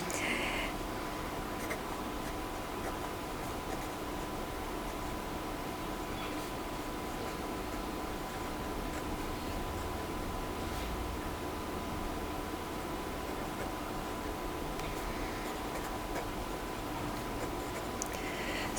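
A pen scratches across paper while working out quartiles by hand, faint and steady over a low hiss, with a few slightly louder strokes and no talk.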